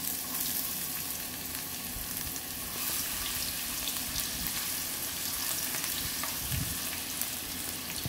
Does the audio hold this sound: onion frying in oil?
yes